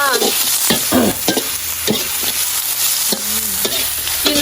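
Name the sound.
stir-frying food in a pan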